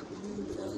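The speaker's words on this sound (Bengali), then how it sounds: "আর অনেক বড় সাইজের কবুতর" A large pigeon coos softly and steadily at close range, a low continuous murmur with no other voices.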